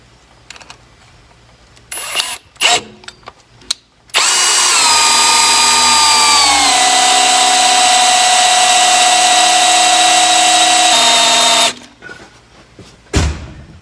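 A power drill spins an oil pump primer shaft in a Ford Foxbody Mustang engine, a loud sustained whine that drops in pitch and slows as the oil is drawn up, bracketed by brief clicks and handling noises before and after.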